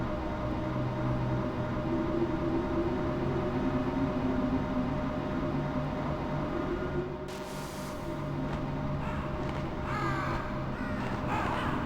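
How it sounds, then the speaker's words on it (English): Crows caw in the Metal Gear Solid game, a few harsh calls rising late over a steady low game ambience and hum, fairly faint against the background. "Ah, the crows."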